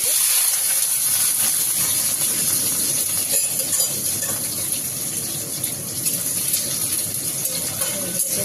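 Stirring ingredients around in hot oil in a pan, a steady steamy hiss and sizzle running continuously at close range with scraping movement, no talking over it.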